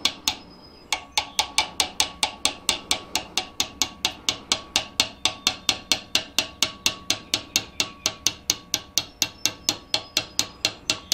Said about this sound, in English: good even hammer blows